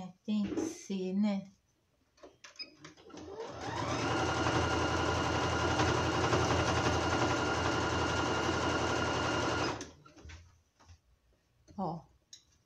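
Domestic sewing machine stitching a fabric band onto the body of an apron, a steady close motor whir running for about six seconds without a break, with talk before and after.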